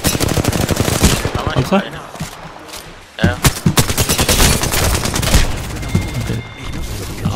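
Rapid automatic gunfire rattles through a video game battle pass match, loud dense bursts with a short pause, while players talk over the shooting.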